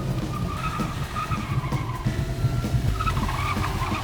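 During a police chase a car reverses hard, its tires skidding and squealing over a rumbling engine, loud and close throughout.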